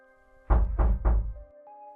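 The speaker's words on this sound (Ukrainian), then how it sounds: "Але одного разу до ріф-ріфа постукав хтось." Three firm, evenly spaced knocks on a door in a narrated fairy tale, close and heavy, standing alone against a quiet background with a faint sustained tone underneath.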